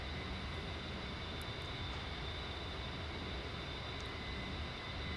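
Steady, loud jet engine roar of an A-10 Warthog in the DCS flight simulator, a continuous broadband rush with a faint high whine, unbroken and with no talking.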